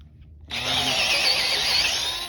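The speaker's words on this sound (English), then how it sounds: "if you've never seen anybody drill a hole before" A power drill starts abruptly and bores steadily into timber, a loud whining buzz with slight pitch wavering, sustained after a brief quiet start.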